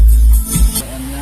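Petrol engine of a Toyota Innova held steady at 2000 rpm with the throttle pedal propped down, a loud close continuous drone with a low steady hum throughout.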